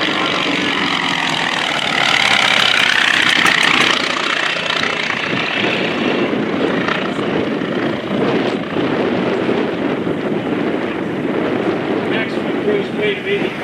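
An FM-2 Wildcat fighter plane's radial engine drones at an airshow, swelling louder as it passes, then fading into a steady rumble while an announcer talks over it.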